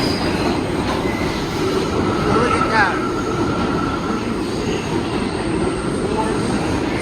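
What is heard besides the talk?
New York subway 4 and 6 trains arriving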